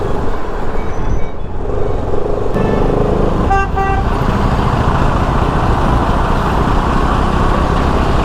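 Congested traffic on a rough road in Srinagar, with engines rumbling steadily and several car horns honking in short, close bursts over the continuous roadway din.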